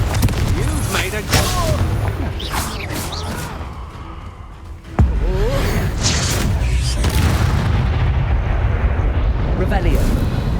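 A Confringo spell in Hogwarts Legacy bursts in loud, booming blasts, with a sharp crack near the middle followed by rumbling explosive roar, all layered under a talking voice.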